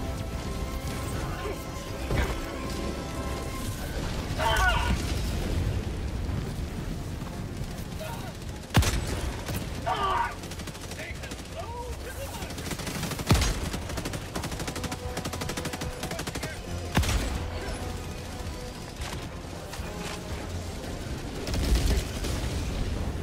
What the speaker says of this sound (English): Where's that artillery coming from?